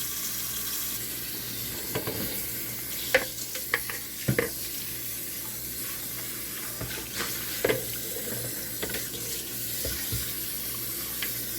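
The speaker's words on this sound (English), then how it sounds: "I also clean my sink out" Kitchen sink being cleaned out with the tap running, a steady hiss of flowing water with scattered knocks and clatters of dishes or utensils at low volume.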